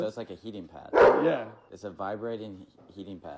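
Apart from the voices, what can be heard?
dog barking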